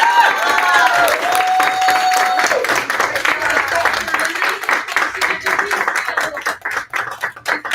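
An audience applauds at a gaming pitch event, claps rising beneath a speaker's voice and then thinning into scattered, uneven hand claps as the talking continues.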